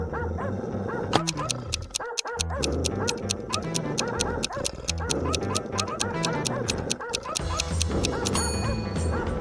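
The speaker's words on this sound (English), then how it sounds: "Suddenly, the dogs went out of control." A pack of dogs barking out of control, dense overlapping barks and yips in a fast loud rhythm, close and continuous throughout.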